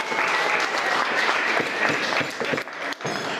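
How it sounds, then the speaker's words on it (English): Loud, sustained applause from a crowd, dense clapping that continues steadily and tapers slightly near the end. "Give them a big round of applause."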